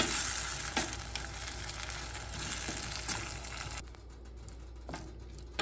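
Tomato chutney with coriander stems frying in a pan, a low, steady sizzle with occasional light knocks that quiets noticeably toward the end.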